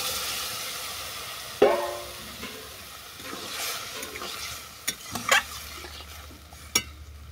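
Potato and eggplant curry is stirred and sautéed in a pan with a soft, steady sizzle, then water is added and a few scraping stirs follow, heard close with no talking.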